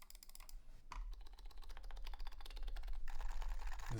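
Steady typing on a Yui660c mechanical keyboard fitted with silencing rings, a dense, fast stream of muted key clacks continuing for several seconds, close and moderately quiet with a low hum underneath.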